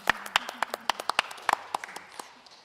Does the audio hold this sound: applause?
yes